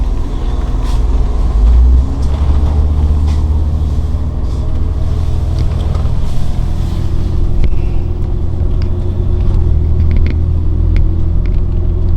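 A heavy 2002 Monaco Dynasty diesel motorhome with a 400 Cummins and tag axle climbs a hill, its engine a deep, steady, loud rumble with constant low drone and faint rattles throughout, no voices.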